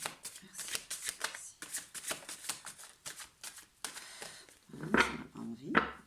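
Tarot cards being shuffled and drawn, giving a run of quick papery riffles and flicks close by, ending with a couple of sharper card snaps, while someone talks over the handling.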